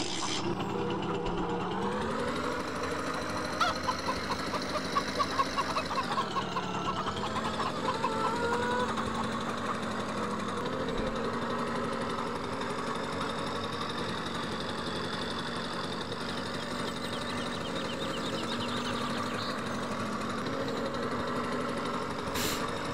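A moped engine in Landwirtschafts-Simulator 17 drones steadily at close range, a constant buzzing motor hum with slight pitch dips and swells and no voices over it.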